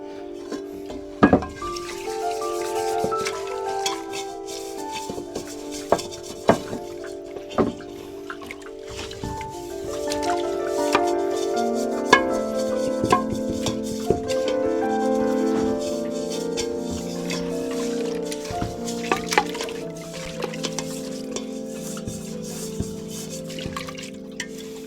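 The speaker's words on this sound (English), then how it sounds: "Do a little rinsey rinse. A couple drops of soap. And a scrub brush." Off-grid laundry being rinsed and scrubbed with a few drops of soap and a scrub brush, with splashing, trickling water and sharp scrubbing and clattering sounds throughout, close and moderately loud.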